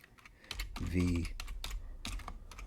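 Fingers tap out a short run of quick keystrokes on a computer keyboard at close range, with a brief voiced sound partway through.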